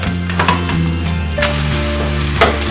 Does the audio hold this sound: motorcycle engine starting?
no